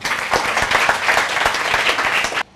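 Audience applause at a speech competition on a TV community show, a dense, steady wash of clapping that continues for a couple of seconds before stopping abruptly.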